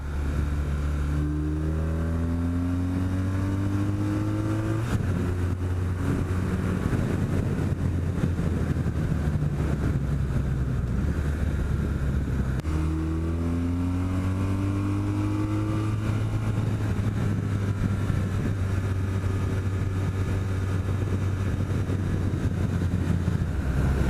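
A BMW R1200 motorcycle engine drones loud and close while riding on a southern mountain sport-touring road, its pitch climbing through gears with two clear shift breaks and heavy wind rush throughout.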